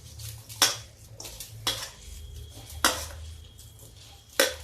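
A spoon mixes a sago tikki mixture seasoned with black pepper and salt in a bowl, giving four sharp clinks against the dish spaced about a second apart over soft scraping and a low hum, no talking.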